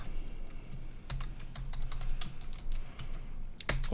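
Someone types a password on a computer keyboard while setting up a Check Point firewall log server, a run of light, irregular key clicks close by with a sharper burst of keystrokes near the end, no voices.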